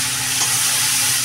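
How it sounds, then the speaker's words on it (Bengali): Onions dropped into hot oil over fried cumin seeds hiss in a steady, loud, close sizzle that fills the short moment, with no talking. "জিরেটা লাল লাল করে ভাজা হয়ে গেছে। দিয়ে দিলাম পেঁয়াজ"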